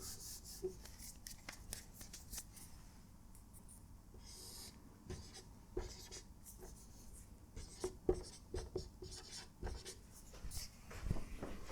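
Marker or chalk scratching out equations on a board in a lecture hall, a run of quick strokes, taps and squeaks with short pauses between, heard close and alone.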